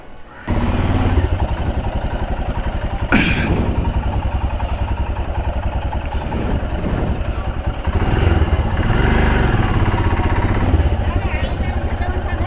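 A Royal Enfield Himalayan motorcycle is underway with a loud, steady engine drone and continuous wind rumble, the note shifting slightly as it rides along, with no other sounds standing out.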